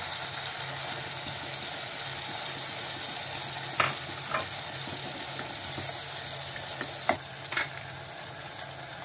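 Steady sizzling of something frying in a pan, with a few brief clinks of a utensil against the pan partway through.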